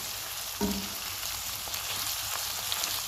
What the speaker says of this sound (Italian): Lasciamo appassire la cipolla per un paio di minuti.